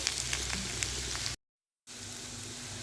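Garlic and thinly sliced eggplant fry in a pan with a steady close sizzle that cuts out briefly to silence before resuming just as loud.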